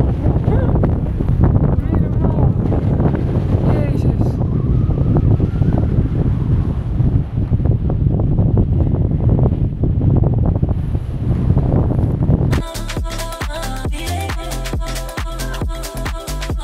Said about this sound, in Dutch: Het waait hier een beetje.